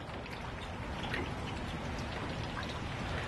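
Steady rain falls across a large backyard, a dense, even hiss of drops hitting surfaces that stays constant and close throughout with no voices.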